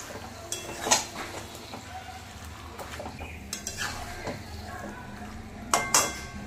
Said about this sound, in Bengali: চিকেনটা দিয়ে এবার ভালো করে কষতে থাকবো।